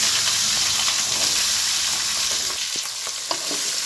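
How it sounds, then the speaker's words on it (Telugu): Green chilies fry in hot oil in a pan with a dense, continuous sizzle and hiss, broken by a few soft stirring scrapes near the end. "ఆయిల్ వేడైందండి. పచ్చిమిర్చి వేసుకుందాం."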